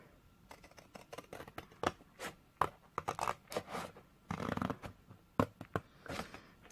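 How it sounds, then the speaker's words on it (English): Long scissors cut along a score line on a paper gift box, making a quick run of crisp, irregular snips and scrapes up close with no talking. "So I'm using my long scissors, and what you want to do is you want to turn it over. You want to cut up this score line here."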